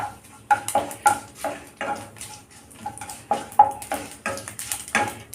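A spoon stirs curry leaves and mustard seeds in a metal pan while sambar is being made, giving irregular scraping clinks and taps against the pan, close and fairly quiet, with soft gaps between strokes.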